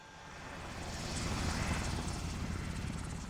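US Army helicopter flying past, a rumbling rotor drone that swells toward the middle and slowly eases off, moderately distant with no talking.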